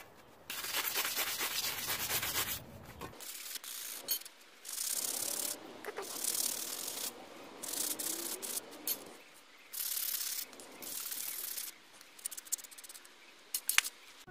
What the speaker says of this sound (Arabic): حاول نصنفر الهوب شيء بسيط